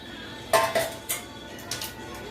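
A few metallic clanks as a lid is set onto a pot of boiling dal, one sharp knock followed by lighter rattles, close and otherwise quiet.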